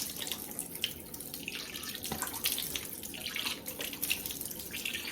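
Warm water runs from a bathroom tap while a face is rinsed, a steady close splashing hiss with irregular splashes from cupped hands, no talking.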